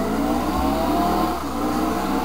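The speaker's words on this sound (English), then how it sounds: "Now I'm gonna blow up my engine." A race car engine in the NASCAR Heat video game at Sears Point (Infineon) roars steadily at high revs, loud and continuous throughout, with no talk.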